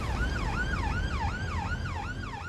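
An ambulance siren on blue lights, wailing in a steady repeating rise-and-fall pattern, loud and close over low road rumble.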